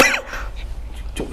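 A man gives a short, harsh cough burst, then another brief throaty cough, close up in an indoor setting.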